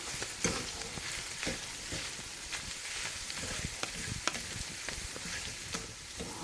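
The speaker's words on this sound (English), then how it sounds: "I'm going to add the noodles to this pan. So we'll just break those down in there." Noodles being broken up and stirred in a hot pan for a tuna casserole in a Ninja cooker, a quiet continuous sizzle with repeated scraping and crunching stirs, close and without talk.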